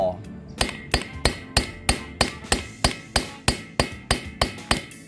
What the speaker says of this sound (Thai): นำค้อนเหล็กมาตีกันเลยครับ ตีเข้าไปตรงกลางตรงรอยต่อ